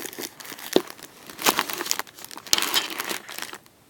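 Crinkling plastic wrap on an eyeshadow palette, handled close up in sharp irregular bursts of crackle with a few louder crunches, no talking.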